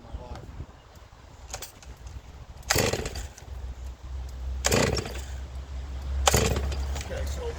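Stihl 660 chainsaw pull-started without choke, three sharp cord-pull bursts with a low sputter that never catches, close, amid outdoor background noise.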